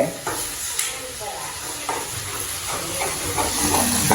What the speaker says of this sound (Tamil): முட்டை தனி ஒரு பக்கத்தால் அம்மா வதக்குறான் ஒரு பக்கத்தில் எரிய போகுது கிண்டி விடுவோம்